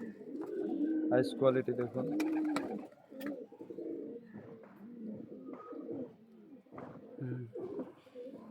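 Pigeon cooing rolls along in low, throaty bursts while someone talks over it, the birds close and moderately loud at first, then softer and intermittent.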